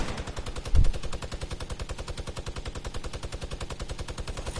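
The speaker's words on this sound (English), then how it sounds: "Why are they still shooting?" Rapid automatic gunfire in Fortnite, a steady stream of quick shots at an even, fast rhythm with one louder burst near the start, heard at moderate distance.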